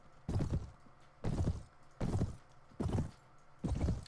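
Horse hooves in Mount and Blade, five heavy, evenly spaced thuds at a slow, plodding pace, each a distinct low impact with quiet gaps between, nearby and unaccompanied by talk.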